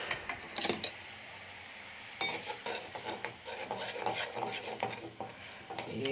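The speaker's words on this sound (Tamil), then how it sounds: "வெந்நீயை கொதிக்க வச்சு கொஞ்சம் கார்ன்ஃப்ளவர் பவுடர் போடணும்" A spoon stirs cornflour powder into boiling water in a pot, giving repeated scraping and clinking strokes against the metal with a faint bubbling hiss underneath.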